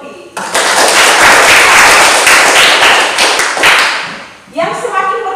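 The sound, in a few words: classroom applause for a student named Yongki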